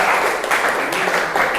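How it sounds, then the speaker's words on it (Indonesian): A group of students in a classroom claps together in a brief, loud burst of applause, dense and close, with no one speaking over it. "Tepuk tangan untuk kita semua ya."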